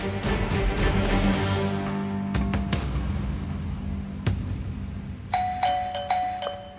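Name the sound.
doorbell ringing repeatedly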